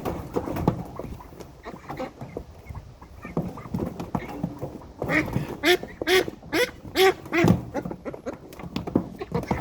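Aylesbury ducklings quack in a busy chorus nearby, with repeated short nasal calls that grow louder and more frequent toward the end, mixed with shuffling and scuffling.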